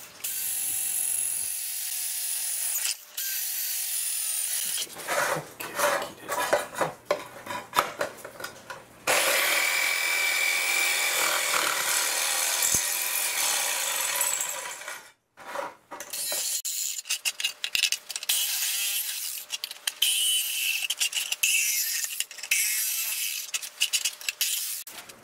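Harsh, rasping power-tool cutting in long bursts with short pauses, close by and loud, a drill and jigsaw cutting an air intake hole in a carburettor box for a two-stroke engine.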